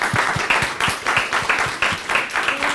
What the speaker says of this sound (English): if we give a big round of applause